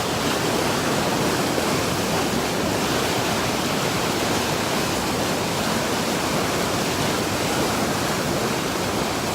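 A large mountain creek rushes loudly and steadily, a dense unbroken roar of water filling the whole stretch with no voices over it.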